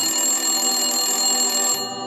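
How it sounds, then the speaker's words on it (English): A telephone bell rings loudly and continuously, a dense metallic tone that cuts off near the end, with no voices over it. "I had gone to bed for a few seconds when the phone rang."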